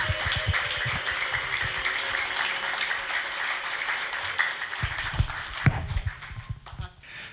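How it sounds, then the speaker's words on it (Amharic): A church congregation at a Christmas program stands and claps for Jesus, sustained dense applause filling the room with a few louder individual claps, and voices mixed in beneath it. "እስቲ ለዚህ ለኢየሱስ ካንጀታችሁ ቆማችሁ አጨብጭቡለት።"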